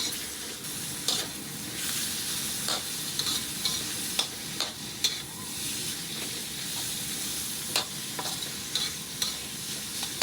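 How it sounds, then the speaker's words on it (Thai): Pork sizzles and hisses in a hot pan while being stirred, with sharp scraping clicks of a utensil repeating irregularly throughout. "ตามด้วยหมูค่ะ วันนี้เราใส่หมูที่เราหั่นเตรียมไว้นะคะ ผัดจนหมูสุกค่ะ"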